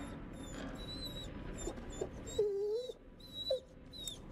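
A puppy whimpers in The Devil in Me, thin high whines repeating in short bursts over a steady low game ambience, with one longer whine in the middle and a brief yelp near the end.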